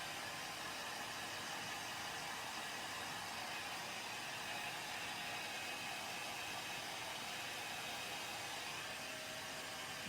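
Hair dryer blowing on wet paint on a pumpkin craft, a steady even whooshing hiss that runs unbroken throughout, with no speech.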